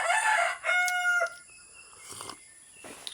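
A Rhode Island Red rooster crows once, close and loud, its long call breaking off, followed by faint background sounds.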